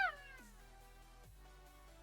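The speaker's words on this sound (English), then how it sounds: "God damn it, a fucking cat again." A cat lets out a single clear meow with a falling pitch, close and fairly quiet, followed by a second softer, lower meow before the clip ends.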